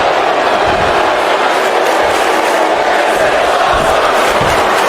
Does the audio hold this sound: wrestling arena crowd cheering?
yes